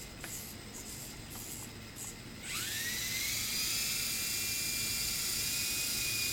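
An E-flite Blade mcX RC indoor helicopter spools up with a rising high-pitched electric whine that settles into a steady, close, buzzing hover after a quieter start, with no talk.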